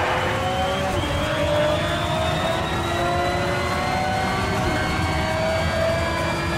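A race car engine roars continuously while driving in Need for Speed: Shift, a loud steady drone with rising and falling whining tones as gears shift, close and without talk.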